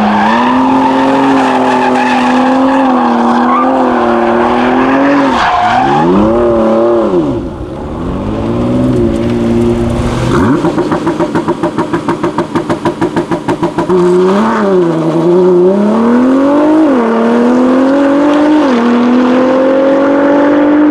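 McLaren Senna supercar driven hard, its engine revving up and down in sweeping pitch changes while the tyres squeal and skid loudly and close up across long stretches, with no voices.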